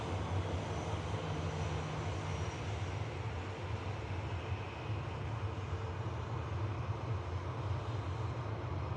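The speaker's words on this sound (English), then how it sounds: "A350-1000 of Qatar Airways. Taxiing out for the return leg to the Middle East back to Doha." A Qatar Airways Airbus A350-1000 taxiing at Manchester Airport, a steady, loud, unbroken jet engine rumble with a broad roar that holds evenly throughout, no voices.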